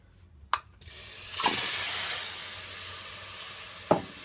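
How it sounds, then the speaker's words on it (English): Butter sizzles steadily after being dropped into a hot pot on the stove for a seafood boil sauce, with a few sharp clinks of a utensil against the pot over the constant frying hiss. "to my pot I'm gonna add my butter"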